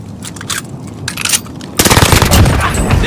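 Automatic gunfire in the shooter game Warzone on Rebirth Island with an MP40, loud sharp bursts, sparse at first, then a dense sustained volley near the end.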